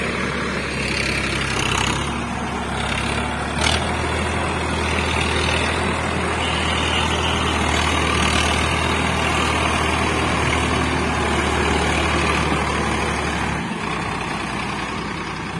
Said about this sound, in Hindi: तीसरे के लो में ये ट्राली चढ़ाएंगे अपन यहां से।